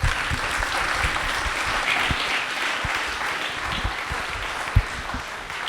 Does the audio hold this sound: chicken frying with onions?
no